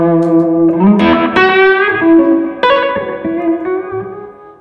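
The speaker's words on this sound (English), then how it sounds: "Spring reverb and tremolo and slapback and bit of dirt." An electric guitar plays through spring reverb, tremolo, slapback echo and light overdrive, with sustained chords and notes ringing into a wash of reverb and echo, loud and close.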